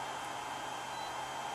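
A hair dryer runs with a steady broadband whoosh and a constant hum, while an amp clamp meter reads its current at an outlet.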